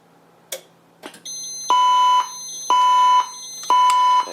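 Voice evacuation fire alarm system sounding after a key-tested pull station is activated, a couple of short clicks followed by a loud, repeating electronic tone in three long, even pulses, heard close and alone.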